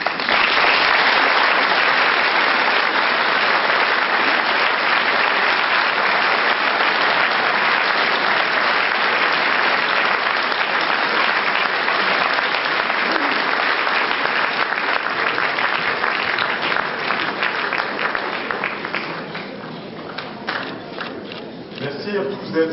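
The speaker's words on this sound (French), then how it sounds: "je vous remercie de bien vouloir les applaudir très fort" A large ceremony audience at a 2016 New Year's greetings event applauds loudly and steadily for about twenty seconds, dense clapping close and continuous, thinning slightly toward the end with a few cheers mixed in.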